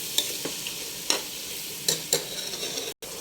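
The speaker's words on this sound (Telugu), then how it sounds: "దీంట్లో ఉల్లిపాయలు కూడా వేసుకోవాలి ఫ్రెండ్స్. బాగా ఎర్రగేగిందాగా వేయించుకోవాలి." Sliced onions fry in a pan, a low continuous sizzle broken by a few sharp, evenly spaced stirring scrapes, close and fairly quiet.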